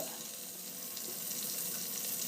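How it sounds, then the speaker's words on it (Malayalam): Chicken pieces fry in oil over a low flame, giving a soft, even hiss with a faint crackle, close by and unbroken, with no talking. "ലോ ഫ്ലെയിമിൽ നമ്മൾ രണ്ട് സൈഡും ഫ്രൈ ചെയ്തെടുക്കുക"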